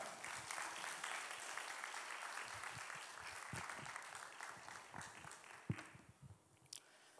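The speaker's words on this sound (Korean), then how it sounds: "우리 박수로 환영하고 축복합니다." A church congregation gathered for a family worship service applauds to welcome the preacher, with sustained crowd clapping that fills the room and tapers off near the end.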